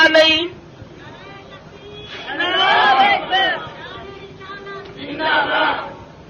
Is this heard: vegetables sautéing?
no